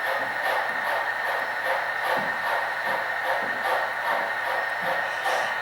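An HO scale model train running on a home layout, giving a steady, rhythmic clicking of small wheels over rail joints above a constant motor whir and hiss, close and even throughout, with no voices.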